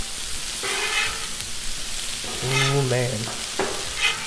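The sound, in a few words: shrimp fajitas and veggies sizzling on a Blackstone griddle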